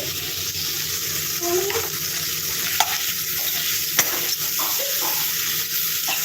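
Ginger garlic paste sizzles in hot oil for Pallipalayam uppu kari as a steady, close, bubbling hiss with a few soft clinks. A faint voice is just audible underneath.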